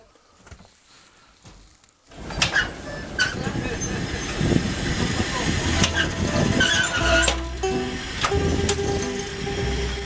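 Siberian long-distance train heard from inside a carriage: near-silence gives way to a loud rumbling roll with rattles, clanks and brief metallic wheel squeals, steady and close for the rest.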